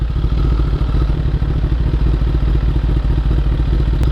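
A motorcycle fitted with an SC Project SC1-R exhaust idles steadily once warmed up, a loud, even, close-up burble with a fast, regular pulse and no voices over it.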